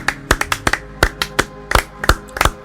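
Church congregation clapping in praise of Jesus Christ during a family prayer service, a run of loose, uneven handclaps in quick bursts, close and fairly loud with no voices over it.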